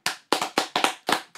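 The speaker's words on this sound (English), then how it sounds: "Can I get a round of applause?" Hand claps on a UK rap podcast, about seven sharp, separate claps in a loose irregular rhythm, close and dry with brief silences between them.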